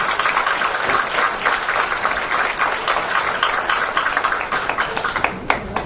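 A conference audience at an environmental congress plenary gives an a cappella group a standing ovation, dense continuous clapping filling the room at an even, full level throughout.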